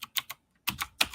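Bursts of computer keyboard typing: three quick keystroke clusters, a pause, then a denser run of clacking keys, close and fairly loud with no speech.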